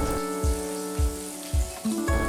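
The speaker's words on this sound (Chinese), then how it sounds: "黑布丁要煎到2面焦脆，还要加黄油" Black pudding frying with butter in a pan for an English breakfast, giving a steady soft sizzle broken by several sharp low knocks and clatters at regular intervals.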